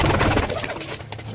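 A pigeon coos close by, a short low burbling call heard on its own.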